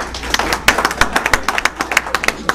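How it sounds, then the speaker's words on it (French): An audience at a March 2012 meeting gives a burst of clapping for the auditor, scattered and uneven claps forming a short, fairly close round of applause with no talk over it. "je voudrais qu'on l'applaudisse très fort."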